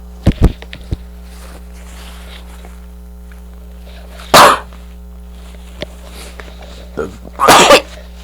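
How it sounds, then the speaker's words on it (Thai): A person sneezes twice with strong, sudden bursts, close and loud, while cooking a Thai dish of sago dumplings with pork filling and stir-fried mee sua, with a brief cough-like sound near the start. "โอ้โอ้จามก่อน"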